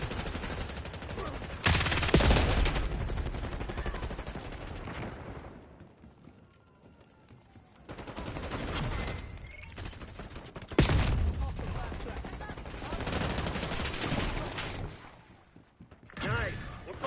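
Rapid gunfire bursts and heavy explosive blasts in the Call of Duty Black Ops 6 video game, loud and dense for most of the stretch, with a quieter lull midway before another sharp burst of firing.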